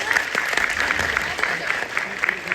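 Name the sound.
applause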